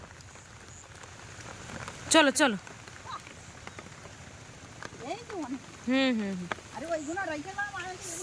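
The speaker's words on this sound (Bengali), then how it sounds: "বৃষ্টি শুরু হয়ে গেছে" Steady rain patters on a surface throughout, outdoors by farm fields, with people talking and calling out over it.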